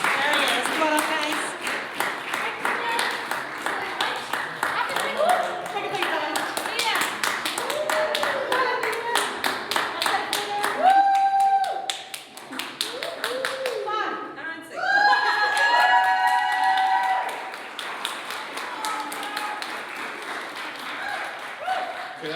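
Audience at a celebration event clapping and cheering for the organising committee, sustained dense applause with scattered whoops and laughter, a brief dip midway before the clapping surges again, with a voice talking over parts of it.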